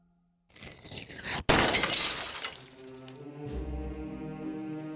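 A bird slams into a stained glass window in the Deponia Doomsday video game, a loud sudden shatter with a sharp second crash, followed by ringing, tinkling glass settling and a low resonant hum.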